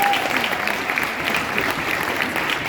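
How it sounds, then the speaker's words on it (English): A crowd at a community aid organization's anniversary event applauds in a dense, continuous wash of clapping, loud and close, with no speech over it. "So clap your hand to yourself."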